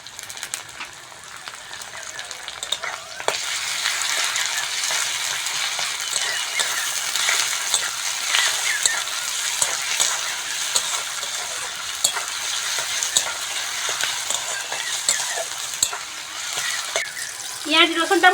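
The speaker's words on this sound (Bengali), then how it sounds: "পেঁয়াজ রসুনটা ভালো করে ভেজে নিয়েছি" Onion and garlic paste fries in a pan, a steady hissing sizzle that swells after a quieter start, with scattered clicks and scrapes of stirring and a few clatters near the end.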